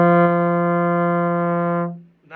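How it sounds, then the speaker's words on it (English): A trombone holds a single steady long tone for about two seconds, even in loudness and pitch with a rich buzzy timbre, then the note is released cleanly into silence. "Your long tones should sound like this."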